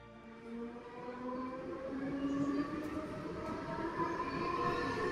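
A cartoon sound effect of a running train makes a faint, steady rumble with rhythmic rolling clatter and a gently rising, whining drone, heard alone.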